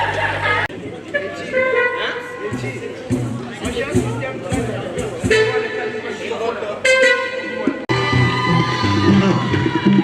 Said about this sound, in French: On peut l'applaudir très très très fort.